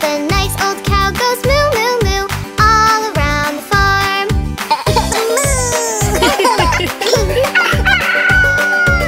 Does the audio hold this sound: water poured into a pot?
no